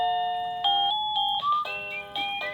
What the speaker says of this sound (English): when you hit the bell, that is going to be what sounds